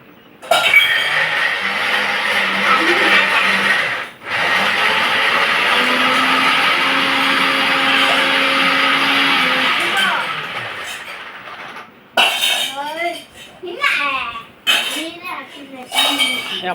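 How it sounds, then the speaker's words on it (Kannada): A kitchen mixer grinder runs with a loud, steady motor whir, briefly cut and restarted, then stops as voices talk close by. "ಅವ್ಳು ಮಿಕ್ಸಿಗೆ ಹಾಕ್ತಾ ಇದ್ದಾಳೆ"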